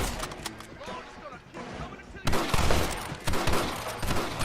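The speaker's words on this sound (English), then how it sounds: "Open fire!" Gunfire rings out in the video game Red Dead Redemption, with scattered shots at first and then heavier rapid volleys of fusillade fire, while voices shout over the shooting.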